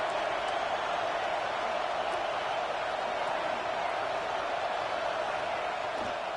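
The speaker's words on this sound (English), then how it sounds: "Listen to this crowd just shaking the girders of this place trying to help their defense." A packed stadium crowd roars during a Notre Dame game in College Football 26, a steady, loud wall of cheering and noise that holds constant throughout with no breaks.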